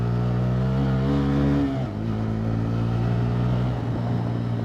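A Bajaj Pulsar N160 4V motorcycle in road mode rides a potholed road, its engine a steady loud drone that dips briefly midway, with no talk.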